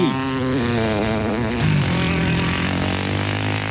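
A 300cc off-road motorcycle engine revs hard nearby during the Mafikeng 500 race, its pitch climbing and dropping before settling into a loud, steady buzzing drone.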